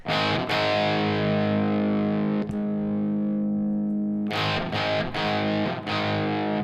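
Distorted electric guitar chords ring out through a Blockhead Marshmello plexi-style amp with the Jose Mod50 pulled out, sustained crunchy strums with a pause and then choppy restrikes, loud and alone.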